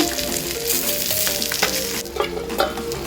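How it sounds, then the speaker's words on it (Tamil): Pieces of shark fish frying in hot oil for sura puttu, a continuous dense sizzle with scattered crackles and stirring scrapes, close and fairly loud over faint background music, no speech. "இந்த பக்கம் வந்து ஃபிஷ் வந்து நல்லா ஃப்ரை ஆகிட்டுருக்கு."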